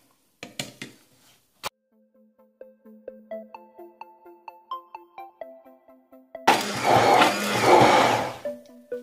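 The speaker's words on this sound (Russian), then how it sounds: "И пробьем блендером до однородности." A run of melodic electronic beeps gives way to a blender whirring loudly for a few seconds, blending strawberries and sugar.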